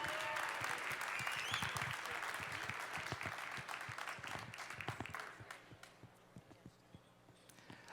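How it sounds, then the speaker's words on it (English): Audience applause for the commentary team at the 2015 World Barista Championship in Seattle: a full, loud burst of crowd clapping that gradually thins and fades into scattered individual claps over eight seconds. "Please, a big round of applause for our commentary team."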